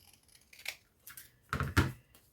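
Scissors cut paper for a junk journal folio: a few short, crisp snips close by, with one early cut and a louder cluster of snips toward the end, and quiet gaps in between.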